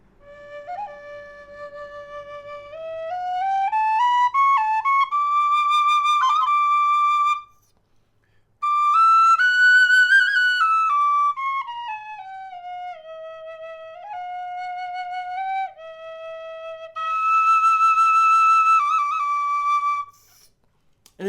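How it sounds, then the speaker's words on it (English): A McManus high D tin whistle plays a clear, bright melodic line, with pure sustained notes, ornamented slides and a short pause between phrases, heard up close and alone. "For many, many high D whistle players, the McManus is an aspirational whistle."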